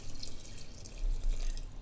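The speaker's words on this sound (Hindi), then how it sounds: "और पानी डालते हैं" Water pours into a cooking pot while a home cook prepares ghiya chana, a steady close splashing and trickling that swells midway, with no talk over it.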